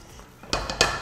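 White sauce scraped from a cooking pan, with a few short scraping strokes of utensil against metal, close and moderately loud after a quiet start.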